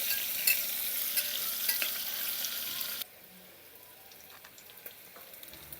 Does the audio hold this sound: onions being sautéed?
yes